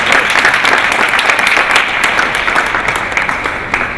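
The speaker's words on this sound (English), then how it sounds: "Please applaud for that." Audience applause at an art exhibition event, a dense, steady wash of many hands clapping at once, loud and sustained throughout before tapering slightly at the end.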